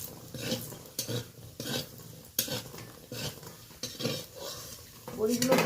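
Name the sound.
frying lentil dumplings (bori) in leftover fish oil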